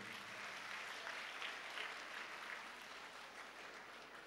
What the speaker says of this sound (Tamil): நம்முடைய நன்றிகளை கைத்தட்டி தெரிவிப்போம்